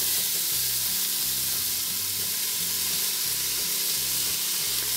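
Chopped red onions sauté in hot oil with dried bay leaves, giving a loud, steady sizzle and crackle that runs unbroken throughout, with soft rhythmic stirring beneath it.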